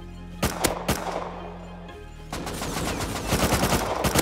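An AK rifle fires in a video game: a few separate sharp shots come first, then after a short lull a longer stretch of rapid overlapping gunfire, moderately loud.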